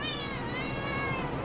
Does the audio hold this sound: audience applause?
no